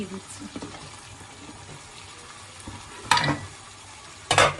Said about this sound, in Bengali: দিয়ে দিচ্ছি গরম জল